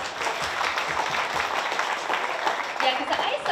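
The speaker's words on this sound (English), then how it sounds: "we need another round of applause for them and for all of us." Audience applause at a volunteer appreciation awards gala, a dense, steady wash of clapping lasting several seconds with crowd noise and voices mixed in.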